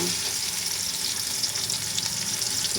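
Vegetables for Kapampangan pinakbet fry in hot oil in a large pot, giving a continuous, close sizzle with faint stirring clicks and no talk.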